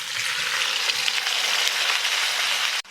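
Cooked beef frying in a karahi with garlic, ginger and cumin, a loud continuous sizzle close by that cuts off abruptly near the end.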